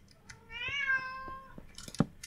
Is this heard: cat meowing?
yes